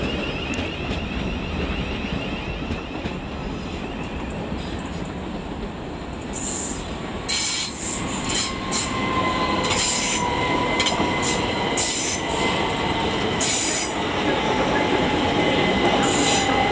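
A 10-carriage train pulls into Clapham Junction station, its rumble building as wheels squeal in high, repeated shrieks against the rails, loud and close on the platform.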